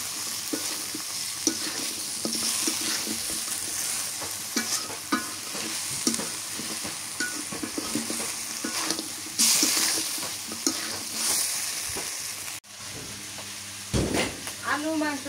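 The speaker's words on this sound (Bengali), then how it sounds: "মাংসটা কষানো হয়ে গেছে, এবার এই যে ভাজা আলু দিয়ে দিই, এটা দিয়ে আর এক কষান করাই নিই।" Country chicken and fried potatoes are stir-fried together in a pan, with a steady loud sizzle and repeated scraping stirs against the metal running throughout, close by.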